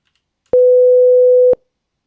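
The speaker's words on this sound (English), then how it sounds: "Let's do 500 hertz." Synthesized 500 hertz sine tone generated with C++ code, a single pure steady beep lasting about one second, loud and clean with clicks at onset and cutoff, surrounded by silence.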